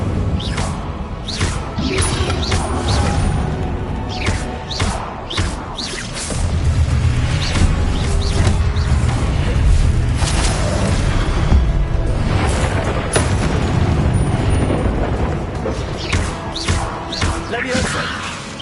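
A fire spell in the Hogwarts Legacy video game is cast during busy combat. Repeated whooshing blasts, crashes and booming bursts come in quick succession, loud and close, with voices mixed in.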